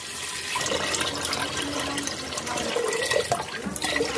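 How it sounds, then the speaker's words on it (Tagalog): Water is poured from a pitcher into a cooking pot for sinigang with gabi, a steady splashing, gushing pour that runs continuously for several seconds, fairly close and alone. "Lalagyan ko ng tubig."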